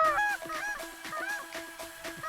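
Geese honk close overhead at last light during a goose hunt, a flock calling in rapid, overlapping bursts with no talk.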